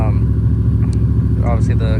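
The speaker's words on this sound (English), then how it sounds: "Obviously the car's idling high, which I got to figure out." A car engine idling high at a roadside stop during a rally day, a steady low rumble running continuously and loud, with a voice talking over it.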